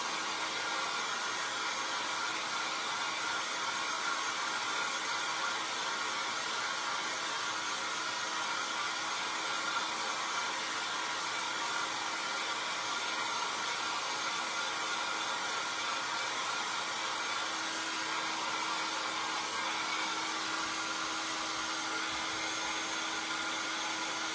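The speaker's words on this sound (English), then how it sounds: "Do you guys hear the blow dryer?" A hair dryer drying printed ink on a sweatshirt blows steadily at close range, a constant whooshing motor hum that never changes pitch or stops.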